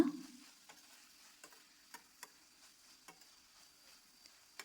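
Vegetables stirred with turmeric in oil in a pan for a masala chitranna gojju. Faint, scattered spatula clicks and scrapes ring out over a soft, quiet sizzle.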